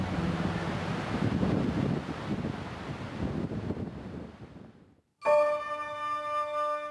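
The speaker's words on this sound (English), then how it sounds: "A sudden gust of very strong winds brought the whole damn lot down" Strong gusts of wind buffet the microphone in a broad, roaring rush that swells and fades over several seconds, drops out briefly, then returns as a steady blustery roar.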